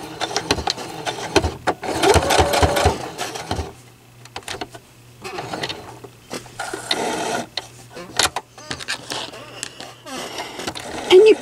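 A sewing machine stitching a fabric bowl cozy whirs in a rapid, rattling burst and then shorter runs, close and fairly loud, with a person talking between the runs.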